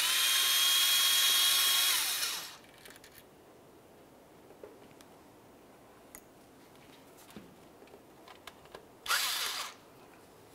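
A power drill whines loudly for about two seconds while backing out T25 Torx screws on a Dodge Ram 2500. Light clicks and handling noises follow, then a second short burst of the drill near the end.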